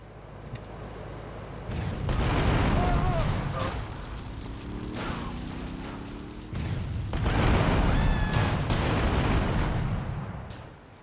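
Deep booming explosions in Grand Theft Auto: Vice City Stories on PS2 roll out in two heavy bursts, with rumbling and crackling game noise between them.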